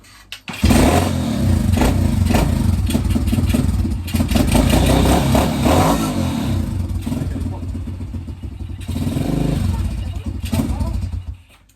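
A motocross bike being started during an oil change, the engine catching and running loud and close at a rough, throbbing idle for most of the stretch, with people talking over it.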